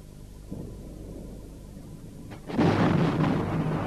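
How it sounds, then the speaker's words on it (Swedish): A deep rumble of distant thunder rolls in, swelling suddenly to a loud, sustained roar after a quieter low murmur, with no voices. "Det var bara åskan som mullrade långt borta."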